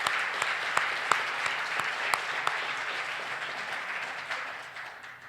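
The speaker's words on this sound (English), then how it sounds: "I think you need a great round of applause." Audience at a tourism conference opening address applauding steadily, a dense wash of claps with a few sharper individual claps standing out, fairly distant and gradually fading, with no talk over it.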